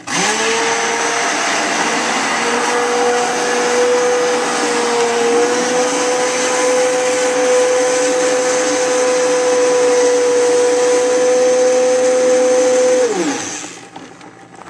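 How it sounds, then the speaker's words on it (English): A stick blender whirs through thickening homemade liquid soap in a kitchen, a loud steady motor hum held for about thirteen seconds before it cuts off and winds down. "You've got to stick blend this thing until your stick blender literally goes wing"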